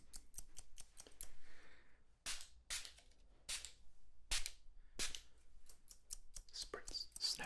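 Scissors snip hair in an ASMR haircut, crisp close clicks in quick bursts broken by airy spritzes from a spray bottle, all quiet and intimate.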